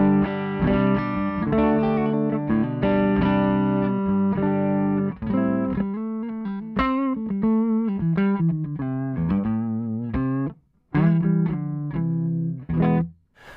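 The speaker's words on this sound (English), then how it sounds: "And then the neck pickup is this." Warm, round tone of the neck P90 pickup on a Fidelity electric guitar played straight into an amp, with sustained chords giving way to a run of single-note melodic lines, close and loud, with a couple of short gaps.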